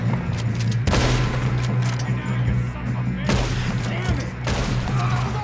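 Gunfire in the Red Dead Redemption 2 game: several loud, sharp shots crack close by at irregular intervals over a steady background rumble.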